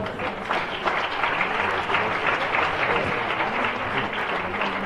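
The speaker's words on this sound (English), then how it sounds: "I think they deserve a big applause." An audience at an International Women's Day event with the Governor applauds steadily, a dense wash of clapping that holds evenly for the full stretch.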